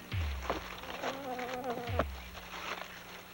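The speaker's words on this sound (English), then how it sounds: "Oh, this place is full of mosquitoes." Cartoon mosquitoes buzz with a whiny, wavering drone near and steady throughout, with a couple of dull thumps and a soft patter beneath.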